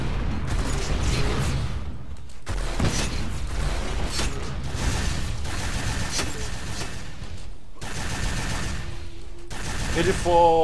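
Dense, continuous gunfire and mechanical clatter from an Unreal 4 shooter duel, loud and sustained throughout with brief drops, under excited voices talking.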